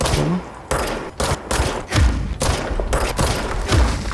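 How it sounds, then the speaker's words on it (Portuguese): Enemy gunfire in the video game Control: repeated bursts of shots with heavy, thudding low impacts, arriving in uneven clusters, loud and close, with almost no talking over it. "Ai, ele atira."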